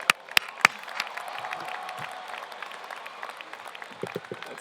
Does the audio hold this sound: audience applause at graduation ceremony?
yes